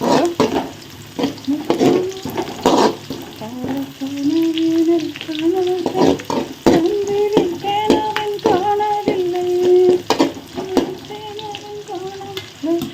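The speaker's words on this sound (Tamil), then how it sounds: "நல்லா வெங்காயம் பொரியல்." Onions fry vigorously in a pan, a loud close crackle with frequent popping spits and stirring knocks, while a faint wavering melodic tone runs underneath.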